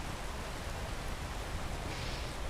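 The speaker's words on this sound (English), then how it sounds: "Why is it raining so fucking much?" Steady rain falls in a video game, an even, continuous hiss of moderate loudness with no voices.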